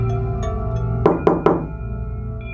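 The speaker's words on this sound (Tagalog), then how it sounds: "3 malutong na katok." Three sharp knocks on a door in quick succession, crisp and close, over a steady low drone.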